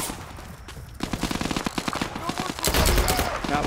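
Gunfire and a loud grenade blast in the VR shooter Zero Caliber VR, a rapid run of sharp shots followed by a heavier, booming burst near the end, with no talking.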